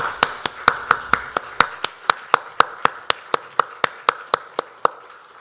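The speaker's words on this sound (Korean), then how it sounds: "하나님께 영광의 박수를 올려드리겠습니다." Slow, rhythmic clapping from a church congregation at a Sunday worship service, about twenty-two evenly spaced sharp claps over several seconds, fairly close and steady with no voices.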